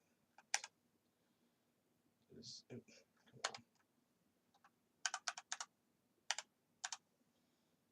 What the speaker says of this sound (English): Here, I got my keyboard.